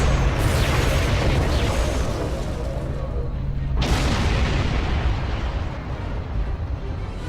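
Starship weapons fire and explosions in the video game Star Trek Online form a continuous heavy rumble, with two sharp bursts flaring out of the roar, one near the start and one midway.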